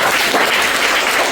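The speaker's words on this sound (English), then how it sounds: "MashaAllah, clap for them, Lord." A short burst of loud, dense applause for students at an Urdu high school event, continuous and close throughout.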